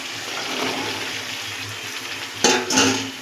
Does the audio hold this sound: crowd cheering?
no